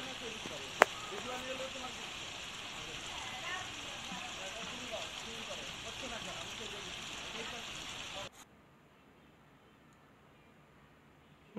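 Steady rain falls at an outdoor hot spring resort among mountains, a dense, even hiss of drops on water and surfaces for about eight seconds, then cutting to near quiet.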